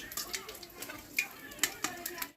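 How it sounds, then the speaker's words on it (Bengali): Flour fritters (bora) fry in hot oil in a pan, a soft continuous sizzle broken by faint clinks and light scraping, close and fairly quiet. "আমি অল্প আছে বড়াগুলো ভেজে নিচ্ছি"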